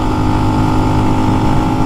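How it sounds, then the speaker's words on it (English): Lifan X-Pect motorcycle engine idling steadily while warming up on break-in oil, a loud continuous low rumble with an even throb that never changes pace, heard up close with no voices. "so I'm trying to get some heat in the engine."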